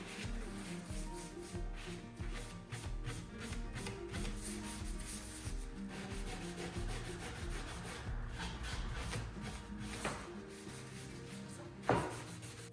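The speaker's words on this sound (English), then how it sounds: "So I brushed on the stain" Brush bristles rubbing wood stain onto a thrifted wooden mirror frame, with soft repeated scratchy strokes close by and a sharper knock near the end.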